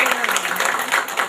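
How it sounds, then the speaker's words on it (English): Audience at a senior center volunteers-of-the-year event claps briefly for an absent volunteer, a dense patter of hands at moderate level with some voices mixed in. "So, clap for June."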